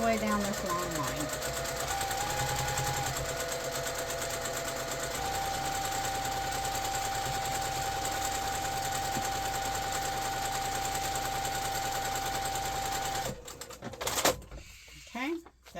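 Sewing machine stitching fabric scraps, a steady close mechanical whir and rapid needle clatter running continuously for many seconds before stopping with a few handling clicks.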